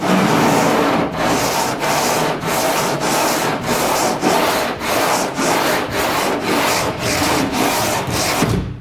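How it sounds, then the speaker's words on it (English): Body filler on a junkyard Cadillac is sanded by hand with a straight board, producing loud, close, steady back-and-forth rasping strokes in an even rhythm of roughly two per second. "I'll be getting the sander out, the straight board again, and seeing if I can sand it off and have it all come out smooth"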